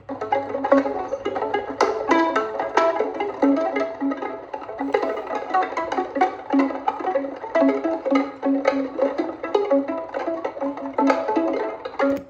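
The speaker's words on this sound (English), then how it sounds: "So that's like a multi-tracked recording of me doing like 4 or 5 notes on the violin." Several layered violin tracks play rapid, shimmering tremolo on four or five notes, with the player's nails tapping the fingerboard; a dense, fluttering texture that runs steadily throughout with no talk.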